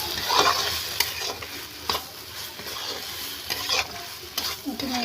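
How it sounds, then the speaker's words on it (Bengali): Soybean and potato are stirred in a hot frying pan, steady sizzling under repeated scraping strokes of a spoon, close and fairly loud, with no voices. "আমি এবার আলুটা সোয়াবিনটা এর মধ্যে দিয়ে দেবো। এবার দিয়ে আমি একটু নেড়ে চেড়ে নেব।"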